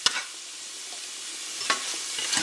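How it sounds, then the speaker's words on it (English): Meat is stirred with salt in a pan, giving a soft continuous sizzle broken by a few scraping strokes of the spoon, close and steady with no talking. "I'll stir that around in the meat here."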